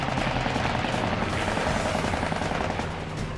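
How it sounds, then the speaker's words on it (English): Fighter plane's .50 caliber machine guns firing in a WWII dogfight over Guadalcanal, a dense continuous rattling roar blended with aircraft engine drone, loud and unbroken. "He stays right with him, raking the enemy with his 50 cals."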